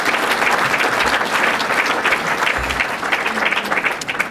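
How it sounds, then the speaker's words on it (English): An audience at a Chicago City Club luncheon claps steadily and fairly loudly throughout, a dense, continuous round of applause with no talking over it. "that deserves a round of applause"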